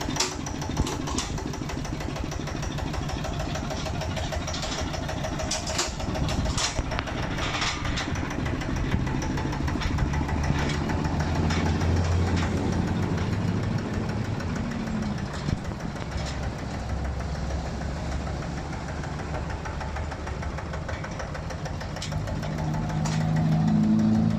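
A Magnum 155 PLUS engine with electric start, mounted on a Kubota NC walking tractor, runs steadily nearby with a continuous rattling throb that swells louder toward the end.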